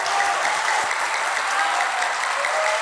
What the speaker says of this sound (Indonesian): Kasih tepuk tangan dulu untuk beliau